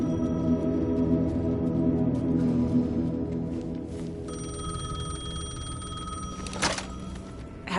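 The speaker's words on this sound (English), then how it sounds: "The payphone was ringing." A payphone rings in Alan Wake 2: a steady, bright electronic ring over a dense, droning ambient background, with a sharp thunk near the end.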